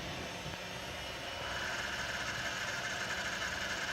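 Replacement cooling fan inside a Scion FR-S car radio, a loud steady whirring hum with a high whine that rises in strength partway through and then holds constant, close and alone.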